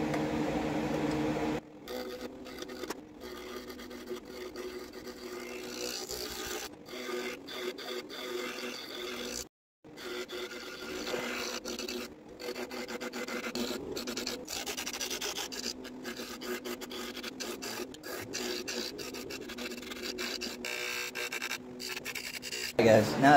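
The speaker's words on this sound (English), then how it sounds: "I'm going to try and clean this up a little bit using a carbide bit." A carbide bit cleaning up an ash wood bowl gives a steady scraping, rasping drone that runs almost continuously, with one brief drop-out partway through and a slight rise at the end.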